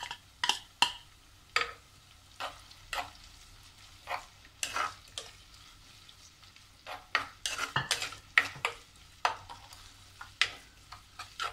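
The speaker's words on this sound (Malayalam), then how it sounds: "ലൈറ്റ് ബ്രൗൺ കളർ ആകണ വരെ നമുക്കൊന്ന് വഴറ്റി കൊടുക്കാം." Onion, green chili, ginger and curry leaves sauté in a pan, a low steady sizzle broken by regular scraping stirs of a spoon, close and fairly quiet, with no speech.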